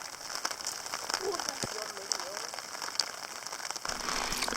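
Rain falls on a campsite east of Swift Reservoir, a faint, steady patter with a few louder drops tapping through the quiet.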